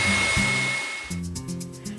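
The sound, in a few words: electric mixer whisking egg whites at high speed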